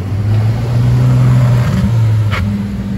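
A Bugatti Chiron or LaFerrari supercar engine at a Paris supercar gathering, a loud close rumble that holds steady, dips briefly, then picks up again.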